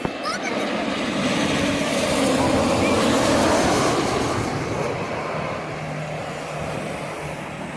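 An Air Canada airliner landing on runway 23 during plane spotting; a broad roaring rumble swells to a peak midway and then slowly fades as it passes.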